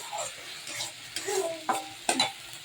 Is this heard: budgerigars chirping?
no